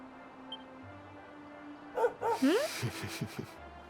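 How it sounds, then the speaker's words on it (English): Dog barking in the video game Dragon Quest XI: a short burst of several yips and barks in quick succession, fairly clear over a quiet game background with soft ambient tones. "Doggy."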